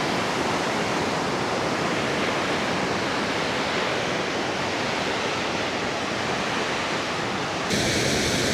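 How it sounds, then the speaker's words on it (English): A big waterfall at Cave Falls in Yellowstone's Cascade Corner roars with fast rushing water, a steady dense broadband wash that stays loud and unbroken throughout. "A lot of fast moving water."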